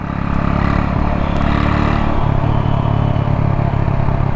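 A Hero Honda Splendor motorcycle engine runs steadily close by, a continuous mid-pitched throb with a light mechanical clatter and no change in revs.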